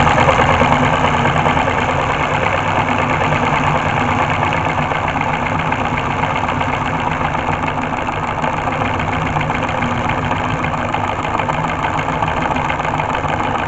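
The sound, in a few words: 4-cylinder solenoid engine motor running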